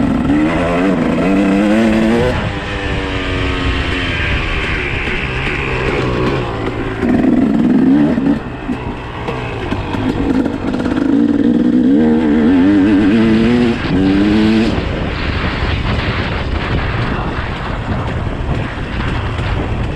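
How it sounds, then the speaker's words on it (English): A dirt bike engine revs hard and rises and falls in pitch while the bike is ridden, loud and close with wind buffeting the microphone throughout, and no talking. "I actually twisted the gas a little too much"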